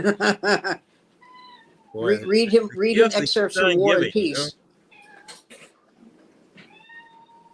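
A cat meows several times, loud and close, with short cries near the start and end while people chat over the middle stretch.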